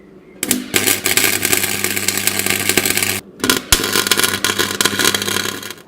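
Legs are welded onto a homemade blacksmith forge with an electric welder that gives a loud, dense crackling buzz close by. The welding runs in two long bursts with a short silent break between them, and no voices are heard.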